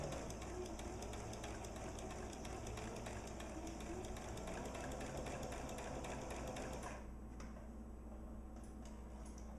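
Sewing machine stitching along a marked line on a lesson project, a steady close rhythmic whir with fine ticking that continues evenly before stopping abruptly near the end, leaving quiet room tone.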